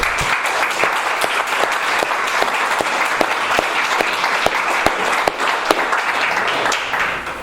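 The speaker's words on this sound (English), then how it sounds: "Another round of applause for Chris." An audience gives a speaker a warm, steady round of applause, continuous clapping from many hands with a few sharp, louder claps standing out near the front.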